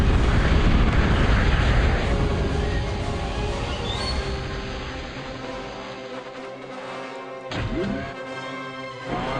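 Sentinel towers fire in the Total Annihilation strategy game, sending out heavy explosive booms and crashes that are loud at first, then fade into a rumbling tail with a few more bursts.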